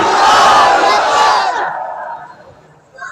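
A large crowd at a Bengali religious sermon gathering roars in loud unison, a sustained collective shout that swells and then fades out over about two seconds.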